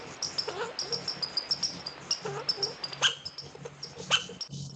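A recorded squirrel call plays as a rapid, rhythmic series of chattering barks and chirps, steady pulses repeated many times, fairly loud and alone.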